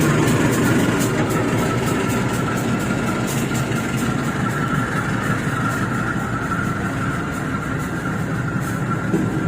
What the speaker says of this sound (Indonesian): Nah, ini Joglo Semarang kereta berangkat.